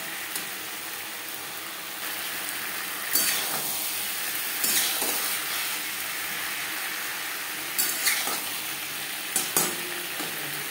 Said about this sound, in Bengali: মশলার সাথে সবজি ভাজবো হাই ফ্লেমে।